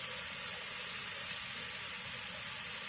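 Onions sizzle in a hot pan with a continuous, even crackling hiss, close and steady throughout with no talking.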